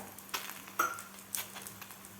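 Mixed vegetable thalipith fries in oil on a pan with a faint, steady sizzle, broken by a few soft clicks and crackles. No one speaks.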